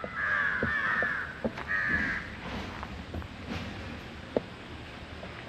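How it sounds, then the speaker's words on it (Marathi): Several crows gather near a riverside spot where food was scattered and caw repeatedly in harsh, bright calls, loud at first, then thinning into scattered calls with light clicks and ambient noise. "हे बघा किती कावळे आले."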